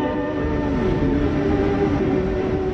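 A New York City subway train rumbling steadily along the track, a loud, continuous roar with a faint whining tone running through it and no talk.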